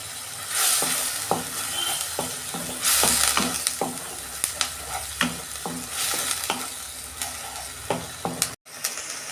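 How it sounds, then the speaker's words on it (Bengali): Ginger garlic paste sizzles with browned onions in a pan while a spatula stirs and scrapes in repeated strokes, each knock standing out over a continuous loud frying hiss. "এই আদা রসুনটা আমার কষানো হয়ে গেছে"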